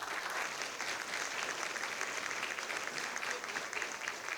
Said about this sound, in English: If we could just a quick round of applause for all of them